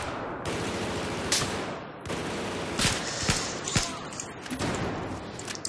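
Gunfire in the video game Battlefield 4: dense, close automatic shooting with a few sharper individual cracks standing out, loud and steady over the whole stretch.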